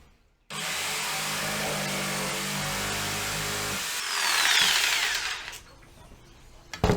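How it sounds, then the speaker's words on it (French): Hand saw cutting a wooden part for a Viking chair, a steady continuous rasp of strokes for about three seconds, then a brighter, louder stretch of cutting before it tapers off into quiet. "on va scier cette partie-là"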